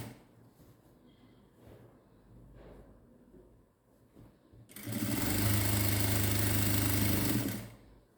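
A sewing machine stitching a churidar runs in one loud, steady burst of about three seconds, after a stretch of quiet handling and rustling of the fabric.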